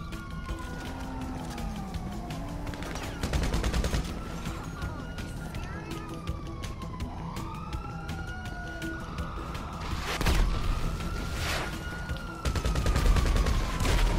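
Steady gunfire and occasional explosive blasts from rockets in a video game, with a siren wailing throughout and voices talking over the chaos.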